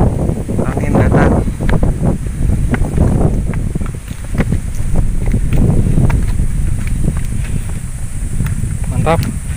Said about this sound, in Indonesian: Angin datang.